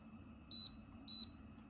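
A warm and cool mist humidifier's control panel gives two short, clear electronic beeps about half a second apart as its buttons are pressed, over a faint steady hum.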